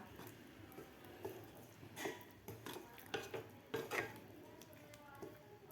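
A utensil stirs thick banana sweet (keli pak) in a pan, giving intermittent close clinks and scrapes against the metal at a quiet level.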